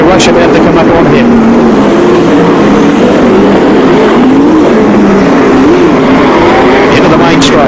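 Sprint cars race around the Archerfield Speedway dirt track during the 1996 National Sprintcar Championship, their engines roaring loud and continuous with shifting pitch as they pass, while an announcer commentates over the noise.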